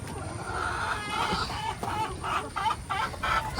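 Chickens cluck and squawk inside their coop, a busy mix of overlapping close calls over a constant background rustle, with no talking.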